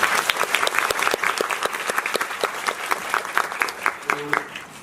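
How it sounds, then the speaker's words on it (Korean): Theatre audience applauds at the closing curtain call of a staged-reading musical of The Little Prince, energetic crowd clapping with distinct nearby claps, and a voice briefly heard near the end. "네, 박수 한번 부탁드릴게요."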